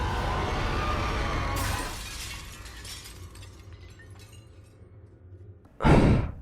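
A mirror shatters in the horror game Little Nightmares: a loud sustained crash of breaking glass fades into tinkling debris, then a sharp, brief burst of noise hits near the end.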